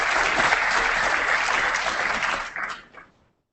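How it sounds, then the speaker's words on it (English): A conference audience at an AMA national gathering breaks into dense, steady applause that holds strong for over two seconds, then thins and dies away quickly. "we'll just give them another round of applause"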